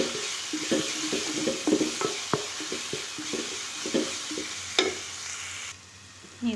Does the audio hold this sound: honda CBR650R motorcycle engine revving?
no